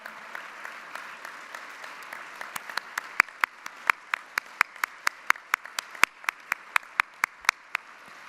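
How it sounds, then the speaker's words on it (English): An audience at an AACSB gathering applauds the staff, a broad wash of clapping with a few sharp, close individual claps standing out in a steady rhythm throughout. "please give them a round of applause"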